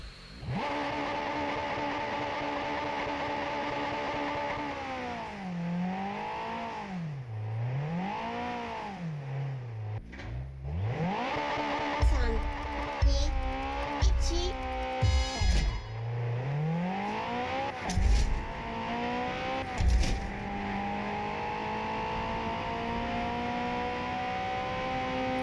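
A racing car in a video game revs up and down repeatedly, its engine pitch rising and falling in waves, then snapping through sharp gear changes and bursts of acceleration, loud and close with no talking.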